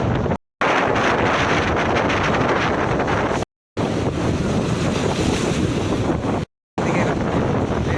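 Waves and wind at the Digha estuary at high tide, a loud, constant roar of surf with heavy wind buffeting the microphone, broken twice by short cuts to silence.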